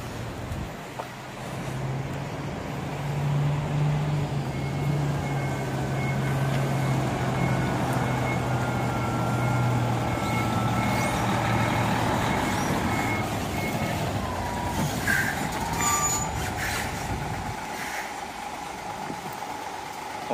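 New Hino 10-ton truck maneuvering slowly, a steady low engine drone with faint repeated reversing beeps over traffic noise, moderately close and without talk.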